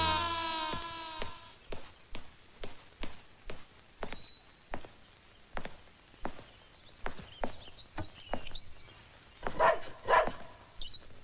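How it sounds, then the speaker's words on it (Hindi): A pet dog named Romeo barks inside a house in a Hindi action drama, a steady series of sharp, evenly spaced barks at moderate distance, with a few other faint noises toward the end. "ये रोमियो क्यों भौंक रहा है?"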